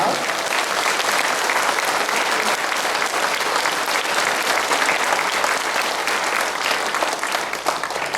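A large audience claps loudly and continuously at a Korean Christian rally for reunification and North Korea's salvation, greeting a speaker as she comes forward. The dense, even applause lasts the whole stretch.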